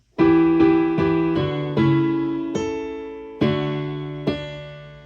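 Piano chords struck one after another at a slow, uneven pace, each ringing out and fading before the next, clear and close with no talking.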